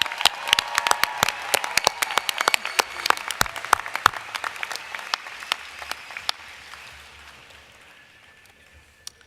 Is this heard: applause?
yes